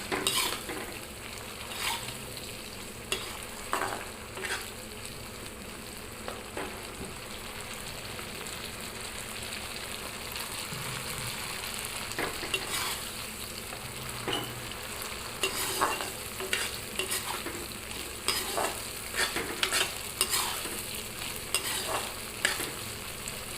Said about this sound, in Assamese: অলপ ভালকৈ লৰাই লৈছোঁ।